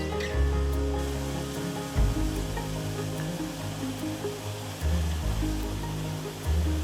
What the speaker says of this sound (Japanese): 見えました、小さな滝があります。